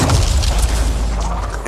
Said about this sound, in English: Have time to use that mortar.